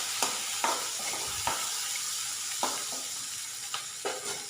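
A curry with coriander and curry leaves sizzles softly in a pan, broken by a handful of sharp scraping stirs spaced a second or so apart.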